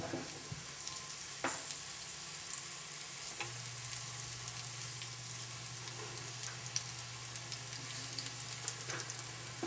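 Sweet potato cutlets fry in a pan with a faint, steady crackling sizzle that runs throughout, with occasional soft knocks from handling them.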